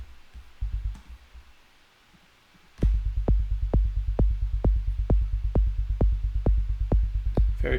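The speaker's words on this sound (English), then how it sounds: "Very clean sounding kick and sub." Kick drum and sub bass synthesized with Ableton Operator for techno, a few sparse hits, a short silence, then a loud, steady four-on-the-floor pattern of deep, clean kicks with a sustained sub underneath.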